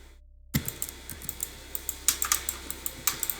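Steady, close-up clacking of computer keyboard keys pressed as hotkeys during a Dota game, a rapid irregular rhythm of sharp clicks that grows denser toward the end, with no talking.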